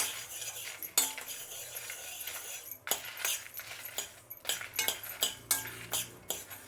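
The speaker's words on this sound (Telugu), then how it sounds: "ఇప్పుడు ఎండుమిరపకాయలు వేసుకుందాం." Dried red chillies and coriander seeds dry-roast in a kadai, stirred with a metal spoon that scrapes and clinks against the pan in irregular bursts, close and without talk.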